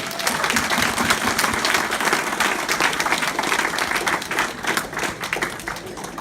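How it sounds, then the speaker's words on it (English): Members of a Chinese Australian community forum give themselves a big round of applause. Loud, dense clapping from a crowd carries steadily throughout with no talk over it. "Let's give all of ourselves a big round of applause, okay?"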